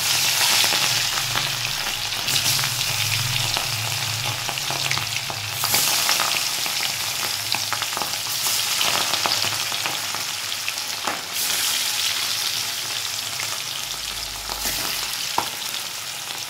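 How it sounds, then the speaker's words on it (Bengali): Rohu fish pieces rubbed with salt and turmeric fry in hot oil in a wok, giving a steady loud sizzle and crackle with occasional spatters, without any talking. "এবার আমি মাছগুলো ভেজে নিচ্ছি।"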